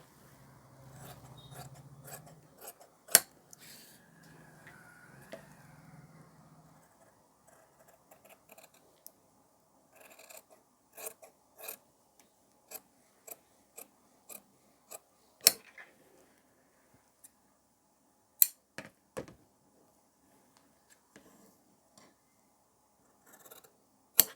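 Tailoring scissors cut blouse fabric for a boat-neck princess-cut blouse, making scattered sharp snips and short rasping cuts in irregular bursts across a quiet background, with a soft low hum early on.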